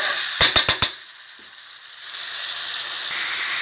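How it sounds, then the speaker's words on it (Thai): Curry paste is stir-fried in a pan with oyster sauce, soy sauce and sugar. A quick run of four utensil clicks comes first, then a steady, close sizzling hiss builds and continues without talk. "แล้วก็ผัดทุกอย่างให้เข้ากันนะคะ"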